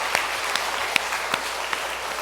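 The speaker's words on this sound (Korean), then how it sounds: "우리 하나님께 다시 한번 감사와 영광의 박수 올려드리겠습니다" Church congregation at a groundbreaking thanksgiving service for a new building, applauding in a soft, steady patter of many hands with a few sharper individual claps standing out, fairly faint and distant.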